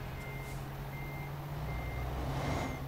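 Reversing beeps from a truck parking in Euro Truck Simulator 2: a steady run of evenly spaced electronic beeps over a constant low diesel engine drone, moderately close and without voices.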